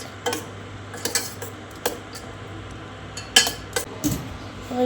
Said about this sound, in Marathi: मिक्स करायचं आता स्पून धुतलाय आता मिक्स